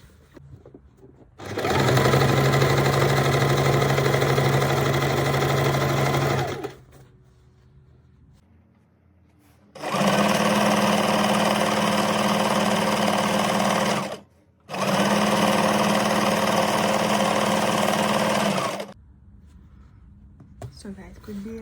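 A sewing machine stitches the side seams of a large tote bag in three bursts, one long run, a pause, then two more runs split by a brief stop, each a steady close mechanical whir.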